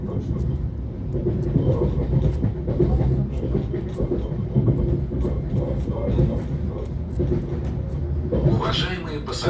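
A Lastochka passenger train rolls along on a trip toward the Zhiguli Sea, its steady rumbling rail noise and rhythmic wheel clatter filling the clip, with a brief rising whoosh near the end.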